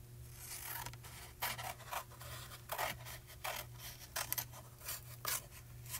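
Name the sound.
cutting foil kit paper with scissors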